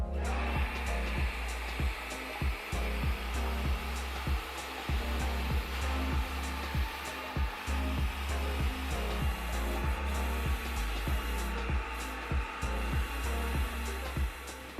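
A hair dryer blowing hair out during an at-home salon blowout, steady and close, with a rhythmic pulsing as the brush passes through the hair over about fifteen seconds.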